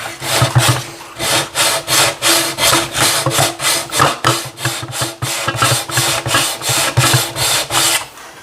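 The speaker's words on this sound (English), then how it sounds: "let's sand it down a bit." Steady back-and-forth sanding of wooden bulwark planks on a model HMS Endeavour ship, a close, loud rhythmic rasping of about fifteen strokes with no talking.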